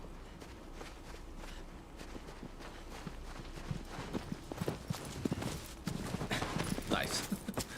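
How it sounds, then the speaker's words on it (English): Rhythmic horse hoofbeats clip-clop at a quick pace under a steady background of game sounds in Shadow of the Colossus Remastered, with a brief spoken word near the start. "I see the horse sprinting towards us."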